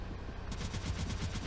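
Rapid repeated shots fired in the video game Cave Story, a quick series of short pulses over a steady background of game music, close and fairly even in level.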